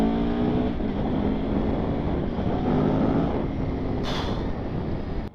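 A 2021 Aprilia Tuono V4 Factory 1100 motorcycle with a race-derived V4 engine runs steadily, a loud continuous engine drone with a gear change, heard on the move with wind rush throughout.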